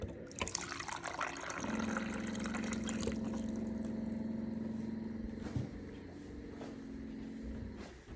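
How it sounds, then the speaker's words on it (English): Water being poured into a cooking pot at home while salmon, green beans and black rice are prepared: a steady, fairly loud stream with a sustained hum runs for several seconds amid clatter. "I'll put some water in here"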